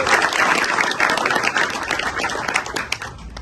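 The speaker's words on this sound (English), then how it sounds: "let's give them a round of applause." Audience applause fills a community business gathering, a dense and steady clapping from a full crowd that stays loud and continuous throughout.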